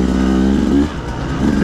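A Beta 200RR two-stroke dirt bike engine runs in the desert, a close buzzing drone that rises briefly near the end, heard under someone talking.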